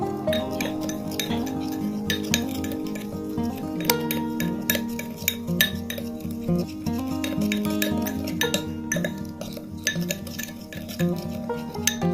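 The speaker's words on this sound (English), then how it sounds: "Mix well the ingredients." Spoon clinks steadily against a bowl while sea salt remedy ingredients are stirred together, a fast irregular tapping and scraping that runs the whole time, close and with no voices.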